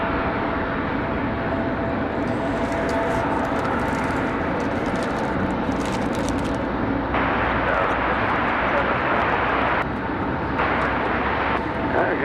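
Air France Boeing 787 Dreamliner at Raleigh-Durham airport, its steady broadband jet engine roar dominating the scene continuously, loud and close, with shifting intensity and faint background voices.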